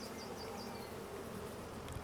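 Steady, dense buzzing of bees swarming around beehives on a farm in the video game Farming Simulator 25, a continuous even drone with no pauses.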